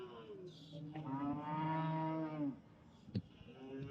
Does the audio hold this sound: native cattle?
yes